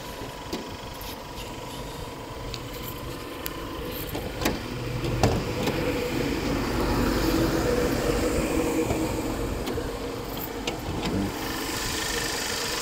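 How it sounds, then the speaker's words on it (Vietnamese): A German car's original engine idles under the hood. A low, even hum runs throughout at moderate level, with a few light ticks and clicks on top. "Con này máy các bác nghe thích lắm. Nó êm."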